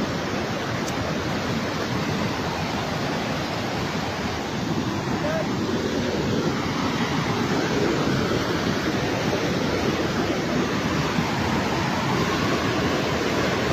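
Floodwater rushes after a cloudburst in Raipur, Dehradun, in a loud, unbroken roar of churning water that fills the whole stretch with no pause or rhythm.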